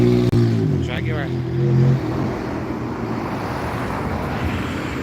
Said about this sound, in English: Nice motor. Jaguar.